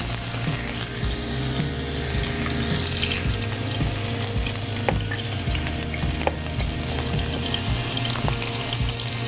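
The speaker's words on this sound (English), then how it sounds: "now I just want to give it a good sear." Florida lobster tail searing face-down in hot oil in a pan, a steady loud sizzle and hiss running throughout with faint clinks, no talking.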